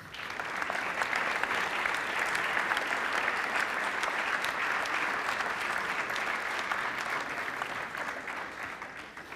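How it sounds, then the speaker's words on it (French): Sustained applause from an audience at a school history competition awards ceremony, honouring a group of students; dense, even clapping that fills the room and slowly tapers near the end. "On peut les applaudir."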